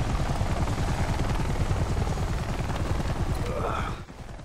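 A helicopter in the Army of Two video game (The Devil's Cartel) gives a loud, steady rotor chop with dense rhythmic thumping throughout, cutting off abruptly near the end.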